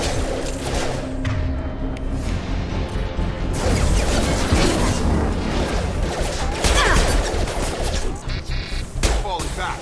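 Dense gunfire from the sci-fi shooter game Mass Effect 2, rapid bursts and heavy impacts layered into a loud, continuous barrage with occasional crashes.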